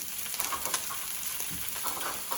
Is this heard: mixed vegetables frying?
yes